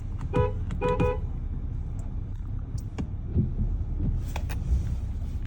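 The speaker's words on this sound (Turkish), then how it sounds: "Evet şifreli kornamızı birazdan çalacağım." A car horn sounds in two quick pairs of short honks, followed by a few faint distant toots amid the low rumble of idling traffic near a busy school pickup.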